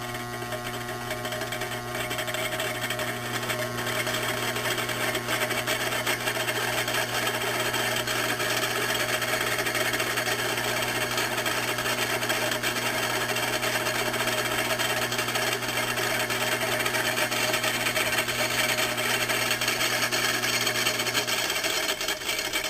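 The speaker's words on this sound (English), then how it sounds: "So it makes a bit more noise, and it doesn't start up as fast." A three-phase AC induction motor fitted with a second rotor runs with a loud, steady hum and strong tonal drone that holds evenly for over twenty seconds, with no voice over it.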